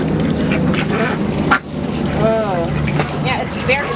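Ducks quacking at an ostrich ranch in 2023, a few nasal calls up close amid outdoor noise and a constant low engine-like drone.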